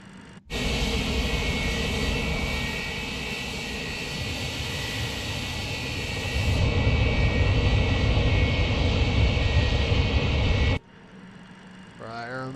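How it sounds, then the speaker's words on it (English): Loud, steady roar of an MD-80 airliner's jet engines running nearby, swelling partway through, then cutting off abruptly before a brief voice. "Cool airplane."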